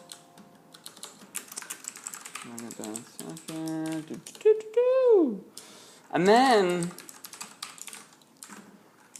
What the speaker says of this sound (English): You already see that I'm typing something different.